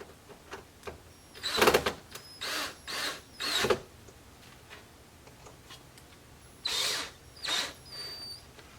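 A power drill drives screws into the replacement basket of a Peavey Black Widow 1508 speaker. The motor whirs in short bursts, about six, separated by quiet pauses, close by and moderately loud.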